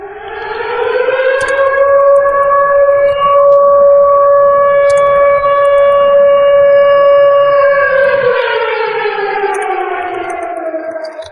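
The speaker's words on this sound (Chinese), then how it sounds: "这是空袭警报。" A loud civil defense air raid siren rises smoothly to a sustained wailing pitch, holds for several seconds, then winds back down, sounding alone and close.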